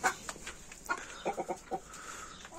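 Adler breed rooster and hens clucking close by in a short burst of separate, rhythmic clucks, with no talking.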